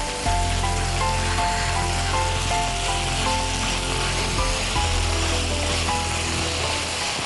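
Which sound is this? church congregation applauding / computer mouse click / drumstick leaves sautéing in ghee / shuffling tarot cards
drumstick leaves sautéing in ghee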